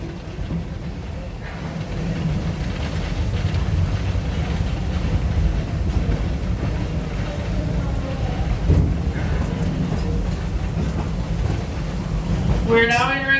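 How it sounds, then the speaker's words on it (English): The Tommy G, a working steam locomotive on the Tommy G Robertson Railroad at Six Flags St Louis, rumbles and clatters steadily at moderate distance, with occasional clanks and a brief hiss near the end, while people talk over it. "The Tommy G is a real working steam locomotive."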